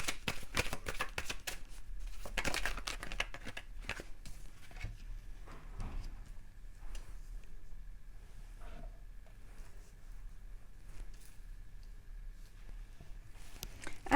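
Tarot cards are handled, shuffled and drawn, giving soft, close flicks and slides of card stock at a low level, busier at first and then sparser scattered rustles in a quiet room.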